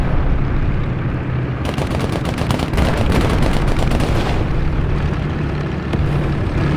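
Tank guns fire in the War Thunder Mobile game with a Japanese Chi-Nu II or Chi-To medium tank, giving loud sharp blasts and rattling bursts over a constant battlefield rumble.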